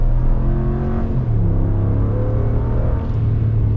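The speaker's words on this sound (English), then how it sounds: "Let's get our full-blown acceleration and see how the Rebel does" A 2021 Ram Rebel pickup truck accelerating hard at full throttle, a steady loud engine drone rising in pitch, heard from inside the cab without talk.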